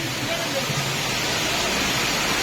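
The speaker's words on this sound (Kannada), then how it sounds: "ಎಲ್ಲಿಂದ ನೀರು ಬರುದು ನೋಡಿ." Ermayi Falls waterfall roaring as a dense, steady hiss of falling water, loud and unbroken throughout.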